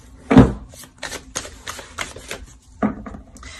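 Oracle cards are shuffled and drawn during a romance reading, making sparse, irregular papery snaps and flicks close by, with quiet gaps between them.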